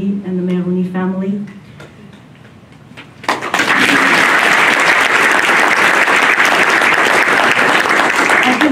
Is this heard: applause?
yes